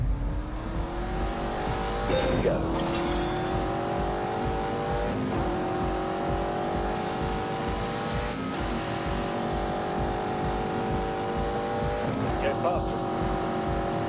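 A V8 car engine in The Grand Tour video game revs through repeated rising gear pulls, loud and close, with shifts every few seconds and a brief spoken line over it.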